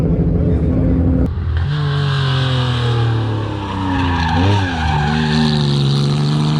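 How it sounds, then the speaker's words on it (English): Group B era Porsche 911 rally car with a rear-mounted 3-litre six-cylinder boxer engine of 290 horsepower, revving loudly and close with rising, falling engine tones at a rally festival, while someone talks over it. "The Porsche 911 has a 3-litre, 6-cylinder boxer with 290 horsepower."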